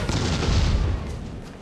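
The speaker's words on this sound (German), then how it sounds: "Er wird gleich explodieren!" A heavy explosion in the video game The Suffering sets off a deep, booming burst that rumbles loudly, then tails off into a fading roar.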